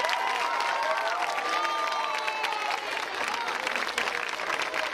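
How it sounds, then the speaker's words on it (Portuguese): Audience applause fills the whole stretch, dense and steady clapping with some crowd noise mixed in, fairly loud and continuous. "Mais uma grande salva de palmas para eles."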